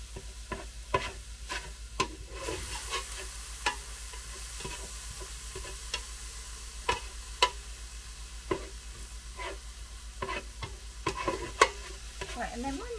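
Bacon frying in a Ninja Speedi as the start of a bolognese, a quiet steady sizzle broken by repeated scraping and tapping from stirring for over ten seconds, no speech.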